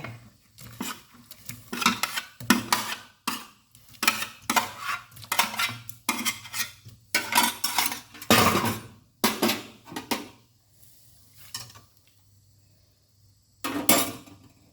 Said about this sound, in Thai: แล้วก็ใส่ผงนัว แล้วก็ใส่กุ้งลงไป